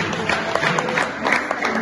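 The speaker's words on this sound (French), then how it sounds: "Applaudissons quand même pour le pasteur." Brief applause from an audience at a conference-debate, honoring a pastor: a short burst of crowd clapping, moderately loud and steady, with no speech over it.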